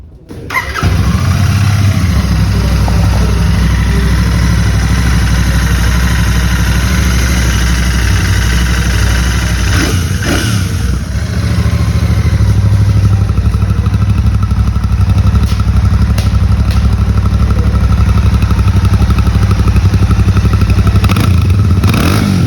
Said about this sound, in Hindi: अब बारी आती है इस बाइक के एग्जॉस्ट नोट की,